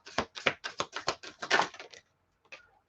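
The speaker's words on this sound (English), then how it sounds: "She says as she keeps shuffling." Tarot cards being shuffled up close, a quick run of about a dozen crisp papery riffling bursts over two seconds, then a pause and one last soft flutter.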